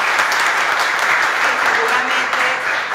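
An audience at a women's secretariat handover ceremony breaks into loud, dense applause that holds steady and unbroken throughout.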